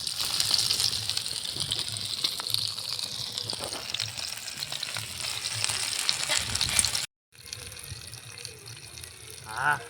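Fish frying on a tava, a steady close sizzle with watery crackle running for about seven seconds, a brief cut to silence, then softer sizzling resumes.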